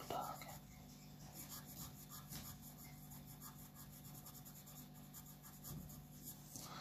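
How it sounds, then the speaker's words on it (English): An ordinary HB graphite pencil shades on paper in a drawing demonstration, giving soft continuous scratchy rubbing strokes that repeat steadily at close range, quiet and alone, with faint low background hum. "It's just simple HB pencil."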